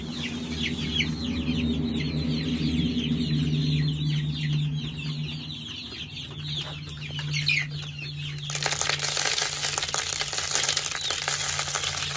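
Barred Rock chickens cluck and chirp steadily near the mic, a busy flock of young birds calling over each other, with a burst of rattling, hissing noise toward the end as feed is poured.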